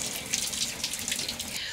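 Water from a hotel bathroom tap runs steadily while a person rinses their head, a continuous close splashing hiss with no talking.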